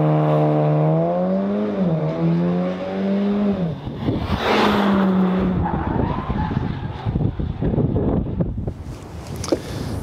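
A VW Golf R facelift with a 2-litre TSI making 310 hp, AWD and a quad-pipe Akrapovic exhaust, on a racetrack, sweeping loud engine notes rising and falling through gear changes, then tyre roar and wind buffeting.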